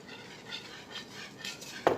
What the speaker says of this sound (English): now I'm going to whisk that together